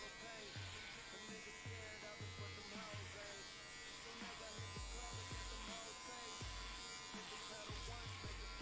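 A cordless electric hair clipper buzzes steadily while cutting hair, close and continuous, with voices talking over it throughout.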